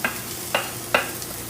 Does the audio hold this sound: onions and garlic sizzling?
yes